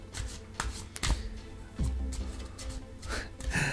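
Angels of Star Avalon oracle cards are shuffled by hand in a series of quick riffling bursts with soft slaps and taps, close and fairly loud, with no talk over them.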